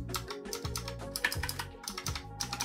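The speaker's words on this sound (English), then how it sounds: "it says clicky optical switch. Light and clicky. Alright, let's click it." Razer Huntsman Mini 60% keyboard with light, clicky optical switches being typed on, rapid crisp clicks in quick succession, close and fairly quiet, no talking.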